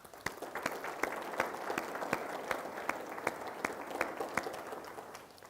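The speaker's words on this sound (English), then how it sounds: "give yourselves a big round of applause." A county audience at a State of the County address gives a round of applause, a dense, even wash of many hands clapping with scattered sharper claps, sustained and fairly distant, with no talk.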